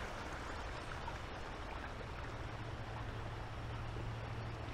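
Small rocky cascades in a quiet side channel of the James River in Richmond, a faint, steady rushing wash with no distinct splashes, continuous from start to finish.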